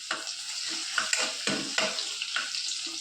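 Garlic cloves sizzle while frying in hot oil, a steady crackling hiss close by, punctuated by several scraping stirs in the pan.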